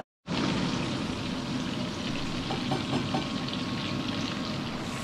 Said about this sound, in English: I am cooking the bacon here